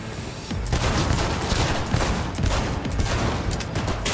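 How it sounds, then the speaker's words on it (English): Rapid, dense pistol gunfire in the video game Cyberpunk 2077, loud and continuous with overlapping shots and impacts throughout, with no pauses. "This pistol does work, man."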